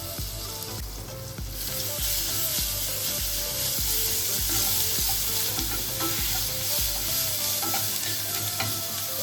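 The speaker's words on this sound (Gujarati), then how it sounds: "આદુ મરચાં સરસ સતરાઈ ગયા છે" Ginger-chili paste and curry leaves sauté in hot oil with a pinch of asafoetida, giving a steady close sizzle with rhythmic scraping and stirring strokes of a spoon against the pan throughout.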